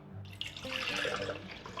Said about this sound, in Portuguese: 300 ml de água. Essa água ela está morna.